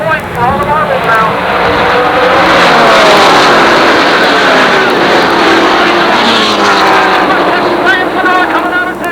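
Super late model stock cars roar around the oval at Jennerstown Speedway in a loud, continuous blur of engine noise, with cars passing and shifting pitch while a commentator talks over the racing.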